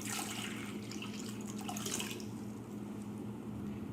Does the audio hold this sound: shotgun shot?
no